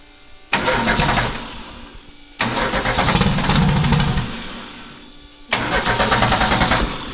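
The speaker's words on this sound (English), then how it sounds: "Ignition and start." A tractor engine is cranked on ignition and catches in three loud bursts of running and revving, separated by brief pauses.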